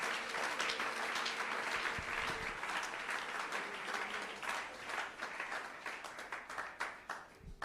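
A church congregation claps in sustained applause through a loud wash of many hands, with a faint voice or cheer at times.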